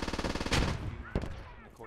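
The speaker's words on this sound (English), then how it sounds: "We're getting shot at on the stairs here." A short burst of gunfire in the Squad military shooter crackles over dense rapid rattling, with two sharp loud cracks standing out close by.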